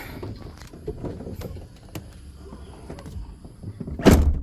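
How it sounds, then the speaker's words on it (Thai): A car door is shut with a solid, sharp thunk near the end, after a stretch of quiet rustling and small clicks inside the vehicle; no one speaks. "แล้วเราก็ปิดประตูครับ เดี๋ยวมันก็จะล็อกเองเลยนะอ่ะ"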